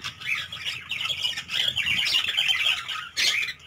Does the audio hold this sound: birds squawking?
yes